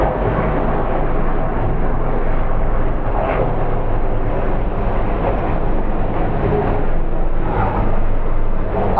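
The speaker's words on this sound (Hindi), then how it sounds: "26 जनवरी भी है तो हेलीकॉप्टर सलामी देते जा रहे हैं" A steady, loud rumble of helicopters drones overhead during a Republic Day salute for the whole stretch, with rotor-like throbbing swelling and fading, no voices.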